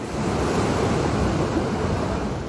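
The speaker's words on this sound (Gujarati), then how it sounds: "પેટાળમાંથી પાણીનો જબ્બર ફુવારો" A huge fountain of water gushes from a newly drilled farm borewell in Rajasthan, making a loud, unbroken roar like heavy surf that holds steady throughout with no voices.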